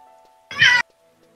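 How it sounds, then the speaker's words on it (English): A cat in Final Fantasy XI gives one short, loud, angry meow in an otherwise quiet game scene, with no one talking. "Cat sounds angry."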